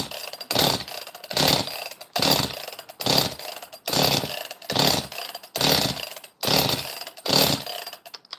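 A chainsaw runs in a repeated pattern, about nine loud bursts of revving, each separated by a short drop to quiet, evenly paced and close by with no talk.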